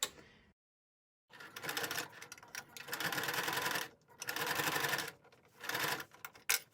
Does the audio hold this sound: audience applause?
no